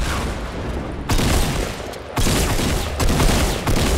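Rocket explosions in the Fortnite video game, loud booming blasts in quick succession, three or four dense bursts with rumbling crackle between them and no talk.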